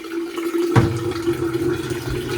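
Water pours into a container prepared for water glassing eggs, beginning with a sudden splash and settling into a steady, close gurgling fill that runs for about two seconds.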